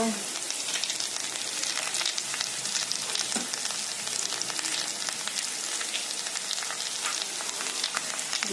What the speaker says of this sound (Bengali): মশলা ভালো করে কষানো হয়ে গেছে